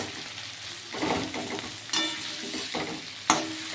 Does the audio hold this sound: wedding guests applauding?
no